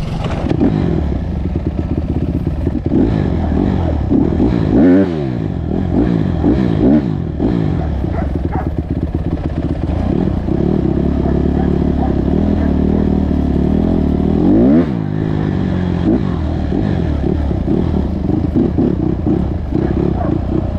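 A Honda ATC 185s three-wheeler climbing a mountain, its small engine revving hard and unevenly, with rising and falling pitch sweeps and clattering over rough ground, loud and close for the whole stretch.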